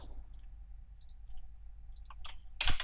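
Computer keyboard typing during 3D rigging work in Autodesk Maya, a few sparse quiet clicks and then a sharp louder cluster of keystrokes near the end, over a low steady hum.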